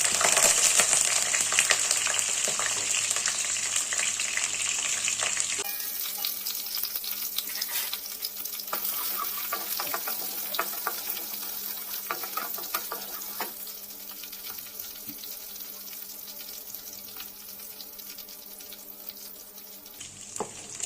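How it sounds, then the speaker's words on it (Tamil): Ginger, green chillies and dried red chillies sautéing in hot oil in a home kitchen pan, a steady loud sizzle running throughout with occasional stirring scrapes, no voices. "வதக்குறாங்க இஞ்சி பச்சை மிளகா வரமிளகா ரெண்டு மூணு மூணு சேர்த்துக்கோங்க"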